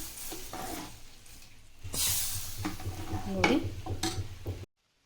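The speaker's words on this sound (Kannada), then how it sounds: "ಈಗ ಈ ಒಗ್ಗರಣೆನ ಈ ಸಾಂಬಾರಲ್ಲಿ ಹಾಕೊಂಡ್ಬಿಡೋಣ." Spice tempering tipped into a pot of vegetable drumstick sambar gives a bright burst of sizzle, then a steady bubbling hiss with stirring and a few utensil clinks, ending in sudden silence.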